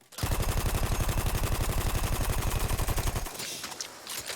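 A Parabellum submachine gun fires in Battlefield 1, a rapid, continuous automatic burst of around three seconds with evenly spaced loud shots, then a brief fading tail of game ambience.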